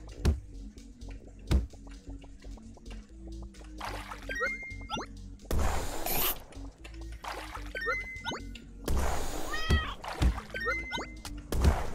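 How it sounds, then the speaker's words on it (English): Cartoonish cat meows in the video game Turnip Boy Commits Tax Evasion, several short cries scattered among game sound effects, drips and plops, with loud noisy bursts of action in between. "Goddamn cat!"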